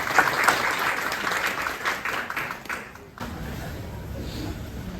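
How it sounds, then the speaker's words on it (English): Audience applause at an outdoor sculpture wedge ceremony honoring artist Richard Hunt, a steady wash of clapping for about three seconds that drops off abruptly, leaving quieter room noise and murmur. "Give him a round of applause."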